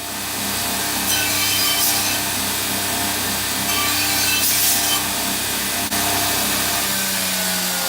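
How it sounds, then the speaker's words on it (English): Power grinder smoothing the edges of scrap metal for a slip roller build, a steady loud broadband whine running continuously throughout with slight rises and dips in intensity. "now we grinded all that down so we can get our edges nice and smooth"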